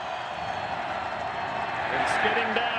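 Stadium crowd at a 2002 Steelers–Titans AFC Divisional playoff game, a steady dense roar that swells louder near the end to urge on the Titans defense, with no voices standing out.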